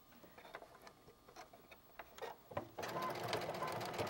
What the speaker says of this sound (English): I am just adding the zigzag to the top of the fabric.